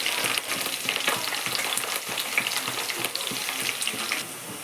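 Ivy gourd (tindora) pieces fry in hot oil until golden brown, a busy bubbling crackle punctuated by frequent light scraping stirs, close and continuous with no voices.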